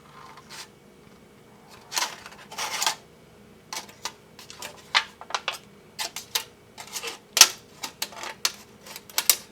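Small kitchen scissors cut through a thin aluminum soda can with sharp, irregular snips and crunches, close and crisp, clustered in uneven bursts with short pauses, no talking.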